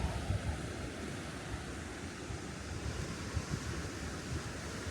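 Waves washing against a rocky California coastline below cliffs, a steady broadband roar of surf with gusts of wind buffeting the microphone, fairly close and continuous with no talking.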